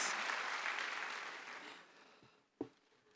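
An audience at a library conference closing ceremony claps in welcome for someone taking the stage, a broad burst of applause that tapers off over a few seconds, followed by a single sharp knock.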